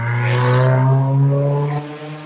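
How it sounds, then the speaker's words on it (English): A noisy car passing by in Antarctica, a loud humming engine tone that rises and then falls away as it goes past. "there goes a noisy car."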